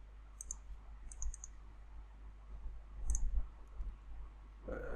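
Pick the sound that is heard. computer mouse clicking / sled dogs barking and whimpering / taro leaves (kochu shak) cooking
computer mouse clicking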